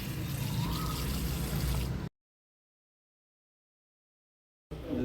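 A household tap, fed through a V-Guard inline booster pump, runs water in a steady, full rush for about two seconds, then cuts to silence before the flow briefly resumes.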